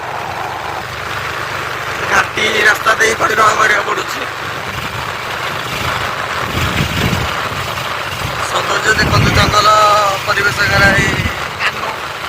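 A motorcycle engine hums and rises on a winding ghat road through forest on the way to Simili waterfall, running steadily under near, continuous talk from the rider.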